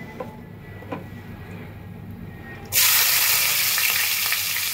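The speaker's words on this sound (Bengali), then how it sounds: "এবার আমি পেঁয়াজের বেরেস্তাটা ভেজে রাখবো।" A quiet kitchen background suddenly gives way to a loud, hissing sizzle as sliced onions hit hot oil for frying crisp, continuing steadily up close.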